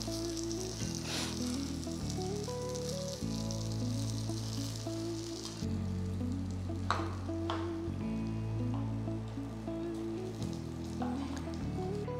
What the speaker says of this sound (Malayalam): അങ്ങനെ സ്പൈസി ആയിട്ടുള്ള നമ്മുടെ കേത്തൽ ചിക്കൻ ഫ്രൈ ചെയ്ത് കഴിഞ്ഞു